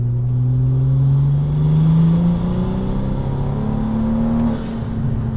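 A car on Mickey Thompson drag radial tires accelerates hard in a pull, its engine note rising steadily through the revs, loud and close, with a brief shift dip near the end and no talk.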